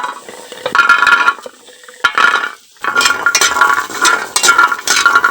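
Jackfruit seeds roast in a heated wok for a traditional Mymensingh mash, producing loud intermittent bursts of rattling, scraping and clinking as they are stirred, with short quieter gaps between.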